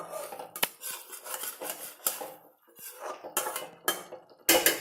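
A lid set over a cooking pot on the stove, with metallic clanks and scrapes of metal on metal coming close and loud, several sharp knocks spread across the stretch, and no talking.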